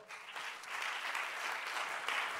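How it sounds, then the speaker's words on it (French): Applause from the audience at a French Tech startup pitch competition semi-final, a steady wash of many hands clapping, fairly faint and distant, continuing throughout without talk. "On peut les applaudir bien fort."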